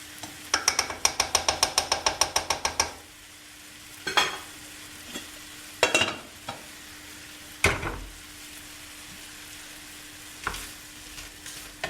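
Gimbap filling cooks in a pan, with a rapid scraping stir of about a dozen quick strokes at the start, followed by scattered single clinks and scrapes over a faint steady hum, close by and without talk.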